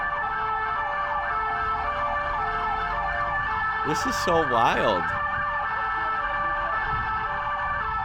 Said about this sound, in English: we have lights and sirens blaring